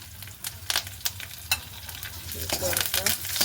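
Fennel, rampe and curry leaves sauté in a hot pan, with a steady close sizzle broken by sharp spatula scrapes and stirring clatters, and no voices.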